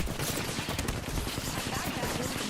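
Rapid video game gunshots crackle in a dense, continuous burst of fire, mixed with a voice talking over the action.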